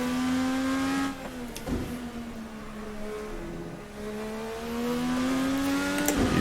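A 1999/2012 IndyCar engine in a racing game mod, revving high and shifting up through gears, pitch climbing then dropping, with a brief lift-off and sharp engine blips between.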